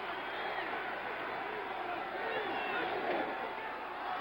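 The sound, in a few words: football stadium crowd cheering for Minnesota Vikings defense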